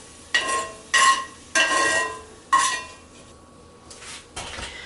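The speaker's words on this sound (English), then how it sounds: "I'm going to use a slotted spoon to remove the meat from the pan." Metal slotted spoon scooping crumbled sausage meat from a pan, four or five sharp scrapes and clinks against the pan in an uneven rhythm, close, over a faint sizzle.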